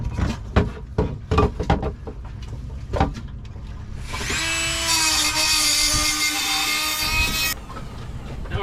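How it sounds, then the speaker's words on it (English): Rotary power tool cutting the flaking edge of a lip on a sailboat shell: scattered knocks and handling first, then a steady high-pitched grinding whine for about three seconds, close and fairly loud. "I'm just gonna cut the very edge of it off and then sand it."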